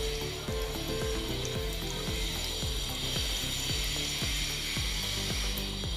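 Two tablespoons of ghee sizzle in a pressure cooker on the stove, making a steady hiss over a regular low knocking rhythm, with no one talking.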